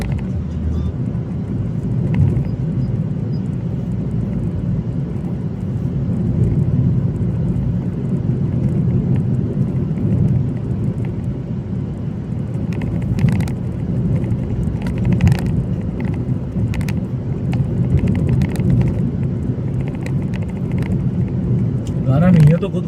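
A car cruising along the NH4 highway through Middle Andaman, a steady low road rumble and engine drone running throughout, with a person talking over it and a few faint knocks near the end.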